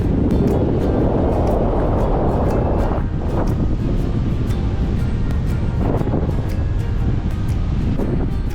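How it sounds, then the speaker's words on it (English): Ocean waves smashing against rocks on the Western Australian coast, a loud, continuous roaring wash with surges of spray, buffeted by wind noise on the microphone. "Check out this ocean, it is insane. Smash up against these rocks here."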